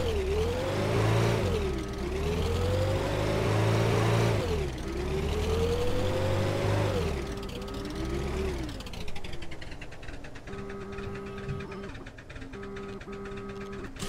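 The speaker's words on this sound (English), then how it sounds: "let's hop in my truck and then let's go get your Tesla and your quad" A truck engine in a video game roleplay hums and rises and falls in pitch through repeated acceleration sweeps, then settles into a steady mechanical drone; no talking.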